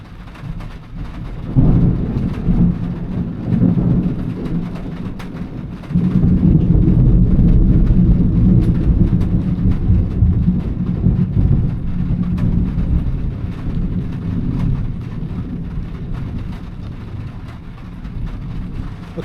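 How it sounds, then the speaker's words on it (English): A thunderstorm with heavy rain rumbles loudly and continuously, a deep roll of thunder swelling partway through and then easing over steady rain. "wait for the storm to pass right now."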